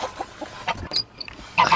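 Soft, scattered clucks from garden chickens settling in for the night, close by and quiet, with a couple of brighter squawk-like calls near the end.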